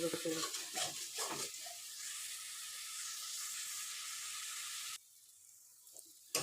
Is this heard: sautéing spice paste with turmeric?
yes